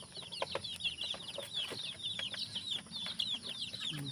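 Hens cluck and squawk together on a farm at feeding time, a busy overlapping chorus of close, steady calls with scattered sharper cries and some light rustling beneath.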